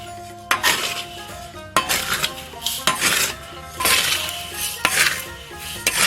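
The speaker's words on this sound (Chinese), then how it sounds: "锅中倒上米粒石，火整旺，把米粒石炒得热热的" Rice-grain stones stir-fried in a hot wok over high heat: loud, gritty scraping and rattling with repeated sharp clinks of a metal spatula against the wok, close and continuous.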